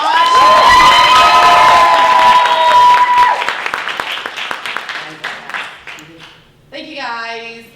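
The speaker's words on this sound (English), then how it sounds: "everyone give Coco a round of applause" Premiere audience for a Chicago web series breaks into loud cheering, whoops and applause, fading over several seconds into scattered claps and chatter, with a voice speaking near the end.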